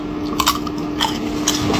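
Repeated crunchy bites into fried chicken, close and crisp, a few sharp crackles over a steady background hum.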